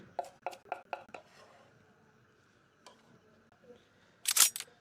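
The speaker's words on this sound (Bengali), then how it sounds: "ধনিয়া পাতাগুলো রাফ কাট করে কেটে নিচ্ছি" A knife thuds quickly on a cutting board while coriander leaves are roughly chopped, giving about six close, crisp strokes followed by quiet and a sharp click at the end.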